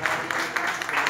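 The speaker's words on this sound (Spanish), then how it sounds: "quiero pedir un fuerte aplauso, primero que todo para Orlando" Brief burst of audience clapping at a bar for a performer named Orlando, steady and moderately loud throughout the short moment.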